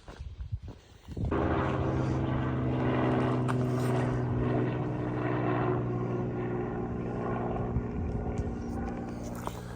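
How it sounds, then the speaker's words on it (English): A helicopter passes overhead while a hiker is in Lerderderg State Park, its loud, steady rotor and engine drone starting abruptly and holding throughout. "Helicopter."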